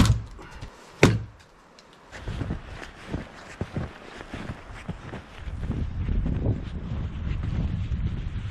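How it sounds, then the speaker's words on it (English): Rough, low rumbling wind buffets the microphone in uneven surges of 60-mile-an-hour gusts during a mountain snowstorm, with a sharp knock early on and a heavier, sustained gust building toward the end. "We've had 60-mile-an-hour gusts."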